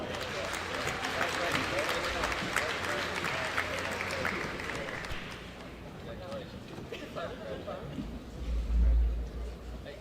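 An audience at a high school college signing day claps and applauds warmly, a dense sustained ovation that tapers off toward the end as a voice begins speaking over it.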